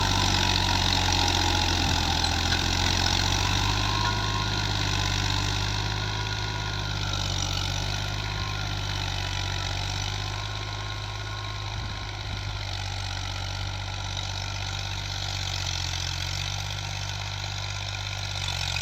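Ghazi tractor diesel engine idling steadily, a loud low rumble with a constant throbbing tone throughout, no voices over it.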